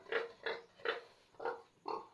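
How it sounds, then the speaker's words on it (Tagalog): A newly bought pig on a Philippine livestock farm gives five short, close grunting oinks in an even rhythm, each a rough nasal burst separated by brief pauses. "Yung bagong bili ko na baboy"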